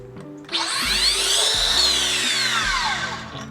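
A Makita 40V 8-1/2-inch miter saw on a test run whirs up sharply, holds a loud, high whine for about two seconds, then spins down.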